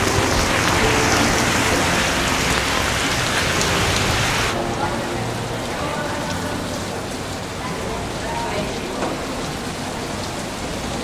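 Heavy rain suddenly pours down during a motorcycle ride, a dense, steady hiss of drops with wind rush close by. Rain on surfaces dominates throughout, easing slightly partway through, with faint voices underneath.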